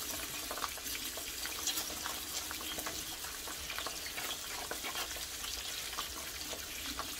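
Four branzino fish slices fry in a pan with a steady, loud, broadband sizzle and crackle that continues without a break and with no voices.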